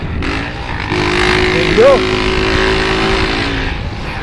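A motorcycle with a special aftermarket exhaust idles with a steady low rumble, near and fairly loud, while someone speaks briefly over it.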